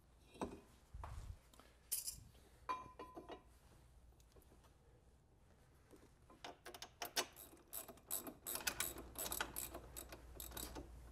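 A ratchet works on brake caliper bolts during a brake pad replacement, giving quiet bursts of clicking and metallic clinks that grow busier and denser toward the end, with no talking.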